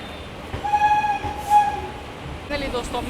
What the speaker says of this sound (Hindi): हमारी जो गाड़ी है वो आ चुकी है हमने पहले halt Ghaziabad junction railway station पर